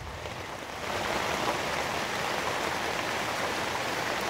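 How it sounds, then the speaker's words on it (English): Heavy rain pours down steadily outdoors at a primitive shelter site, a dense, even hiss that jumps louder just under a second in and then holds constant without pause. "The rain, when it falls here, falls really, really fast."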